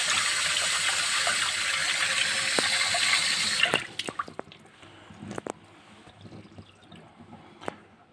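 Water runs steadily from a repaired spiral silicone faucet spray head, a loud continuous rush for several seconds before cutting off, followed by scattered drips and small splashes in a quiet sink.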